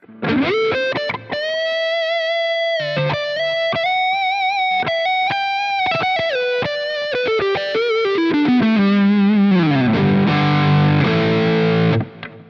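Distorted PRS SE McCarty 594 electric guitar played alone, sustained notes and bends shifting into a denser, gritty chord passage near the end, loud and close.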